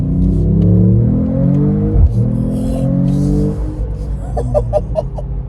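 A 2025 Mercedes-AMG E53 hybrid accelerates hard from inside the cabin, its engine note climbing steadily in pitch through a long pull, dipping at a gear change, then fading into road and wind roar with a few faint clicks.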